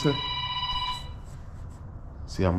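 A single electronic phone ring sounds close and clear, then fades, with a voice breaking in right after.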